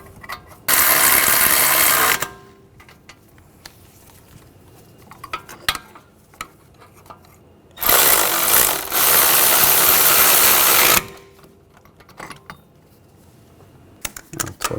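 A ratchet tightens the wheel bearing bolts on a 2004-2009 Audi A4 Quattro, giving two loud, rapid clicking bursts separated by a quiet pause with small tool clinks.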